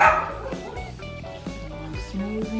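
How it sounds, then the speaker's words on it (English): A dog barks indoors in short, repeated bursts close by, set off by another dog barking outside, with a voice speaking briefly over it. "He hears a dog outside barking, so now he wants to bark."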